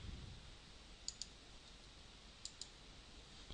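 Computer mouse clicks during drawing software work, quiet and close: two quick double-click pairs spaced apart, then another click at the end, over a faint steady hiss.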